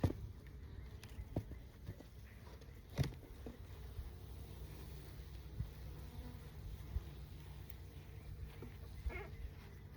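Bees hum around an open hive during an early spring inspection, a faint, steady buzz close by with a few soft knocks and bumps from handling the boxes.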